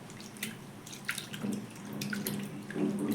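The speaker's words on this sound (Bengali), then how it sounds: "চিড়েটা নেওয়ার পর এখানে কিন্তু 2 থেকে 3 বার জল পাল্টে পাল্টে ধুয়ে নিতে হবে" Flattened rice (chira) being washed in water in a kitchen bowl, with soft drips, splashes and sloshing that continue steadily at close range, quiet throughout and with no speech.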